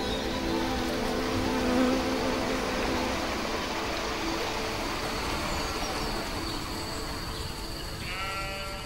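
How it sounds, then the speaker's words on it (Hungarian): Honeybees working willow catkins and blossoms along a wooded stream valley in spring, a dense, steady buzz of many insects close by, continuous and even throughout. "A méhek is szívesen járják az erdős vidékek, patakvölgyek fűszfáit és virágait."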